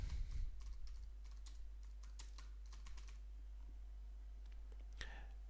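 Someone types a title on a computer keyboard, a close run of quick key clicks that thins out and stops, with a low steady hum underneath.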